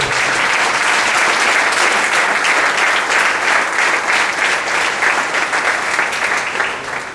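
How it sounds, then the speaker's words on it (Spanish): A church congregation breaks into loud, sustained applause, a dense and continuous roar of many hands clapping that holds steady for several seconds before easing slightly at the end. "Den un aplauso al Señor."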